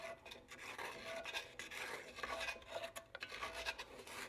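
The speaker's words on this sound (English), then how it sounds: "Getting that fond scraped as we go." A utensil scrapes the browned fond off the bottom of a pot while chile verde con cerdo cooks, giving repeated rough rasping strokes in an uneven rhythm, close and moderately loud with no voices.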